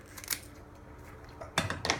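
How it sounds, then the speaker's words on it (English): Kitchen scissors snip through fresh broccoli florets, giving a few sharp, crisp cuts. They come close and fairly quiet, with soft handling noise between the snips. "I take a pair of scissors and I cut the broccoli in these pieces"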